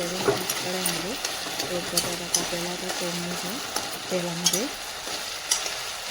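Chakli snacks fry in a pan of hot oil, a steady crackling sizzle running throughout, with a voice humming or talking over it in places.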